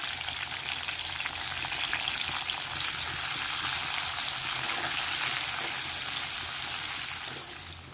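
Onion frying in hot oil in a pan, a loud, steady, close sizzle that holds throughout and eases slightly at the end.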